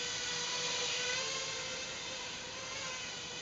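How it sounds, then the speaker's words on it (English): Emax 2205 2300kv brushless motors spinning with a faint, steady high-pitched whir and tonal whine, holding an even pitch, heard alone with no talk. "I'm used to hearing motors spin up and just hold steady."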